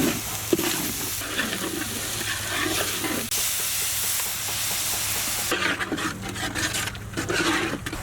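Onions, ginger garlic paste, red chili powder, salt and turmeric sizzle and fry in a kadai while a utensil stirs and scrapes repeatedly, close up with no talking.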